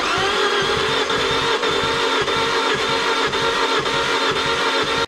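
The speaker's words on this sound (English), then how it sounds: "I am attempting to start the car" Fiat Punto engine cranking with zero compression, a fast, even starter-motor whirr with a rapid chugging rhythm that runs steadily and loudly for about five seconds, then cuts off abruptly.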